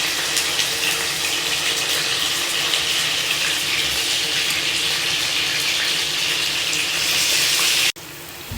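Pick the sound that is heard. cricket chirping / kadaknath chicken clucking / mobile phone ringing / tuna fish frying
tuna fish frying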